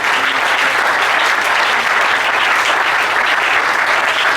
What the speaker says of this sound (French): Est-ce qu'on peut acclamer pour la gloire d'ici?